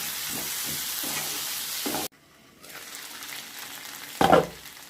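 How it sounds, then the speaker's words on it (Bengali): Chopped potatoes fry in a pan for a spinach and shrimp dish, a loud steady sizzle with stirring scrapes that cuts off abruptly, then a softer hiss returns and a short clatter of stirring follows. "কেটে রাখা আলু দিয়ে দেব।"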